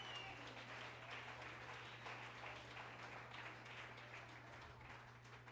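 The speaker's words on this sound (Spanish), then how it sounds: "Den un aplauso al Señor." Applause from a church congregation in Medellín, Colombia, a steady wash of clapping lasting several seconds at moderate level, with a low constant hum running underneath throughout.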